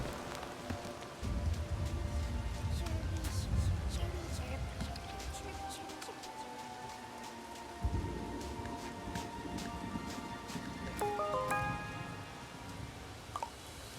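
Steady rain falls in the video game Bugsnax, a dense even hiss with a low rumble of thunder under it, while a voice talks over the top.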